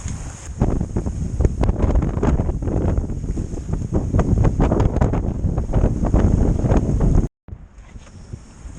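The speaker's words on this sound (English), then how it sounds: "The wind's come back." Strong wind at sea on a sailing boat crossing from Falmouth to Roscoff buffets the microphone in loud, gusty roaring bursts. It cuts out briefly near the end, then returns more softly.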